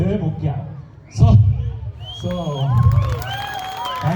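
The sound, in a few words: audience applause and cheering at movie promotion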